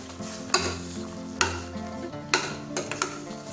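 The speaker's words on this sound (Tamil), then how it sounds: "இப்ப நல்லா கலந்து விட்டுறலாம்" A spoon stirs through a thick vegetable and ground-coconut curry in a pot, with scraping strokes and a few sharp knocks against the metal over a gentle sizzle.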